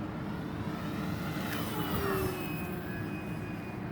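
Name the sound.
E-flite T-28B Trojan RC airplane high-speed pass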